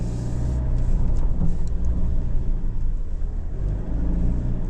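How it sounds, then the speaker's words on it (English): 2025 Mitsubishi Triton GLX-R climbing off-road with the center differential locked, a loud close low engine rumble that holds steady and swells slightly under load, with faint rattles and bumps, no talking. "So that's just with the center diff locked, it climbed up that no problem."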